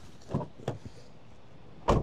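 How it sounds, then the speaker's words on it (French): The door of a 2026 Toyota RAV4 pre-production model shuts with a solid, close thud, preceded by a few softer clicks and handling knocks. "on ferme la porte, puis regardez, là,"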